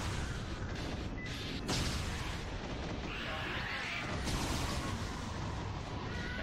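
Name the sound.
explosions in the video game Yakuza: Dead Souls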